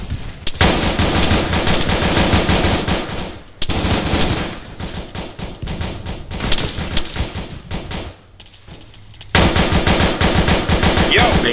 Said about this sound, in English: I want the ARs lighting up that fucking tree line